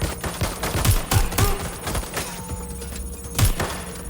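Bursts of gunfire in the Watch Dogs video game, rapid repeated shots with heavy low thumps and a few louder cracks spread across the scene.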